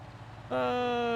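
Tractor engine in the Farming Simulator map Clover Creek, starting up midway to a loud, steady idle with a strong harmonic drone that holds to the end after a quieter stretch of background noise.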